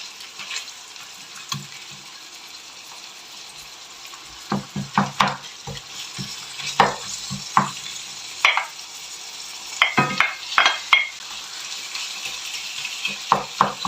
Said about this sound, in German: das tue ich jetzt so richtig in kleine Stücke schon mal zerhacken und lasse das jetzt von der einen Seite anbraten